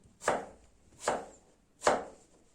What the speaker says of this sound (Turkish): küçük parçalar halinde bunu da doğrayacağım